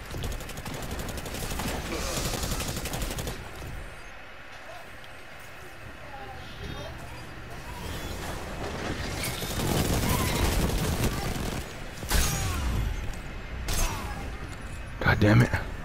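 Rapid automatic gunfire crackles in bursts during a Destiny 2 Iron Banner match on The Citadel map, loud and close, with sharper shots near the end and a player's voice talking over it at times.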